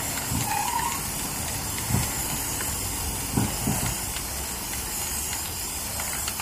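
Acrylic sealer sprayed onto stamped tiles gives a steady close hiss that runs almost continuously, with a couple of faint knocks and no talking.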